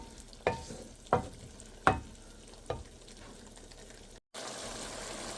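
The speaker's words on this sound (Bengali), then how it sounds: "এখন এটা ভালো করে কষিয়ে নেব।" Meat coated with Kashmiri red chili powder and hot chili powder sautés in a pan, four spaced scraping stirs over a soft sizzle, then a brief cut and a steadier hiss, close and without voices.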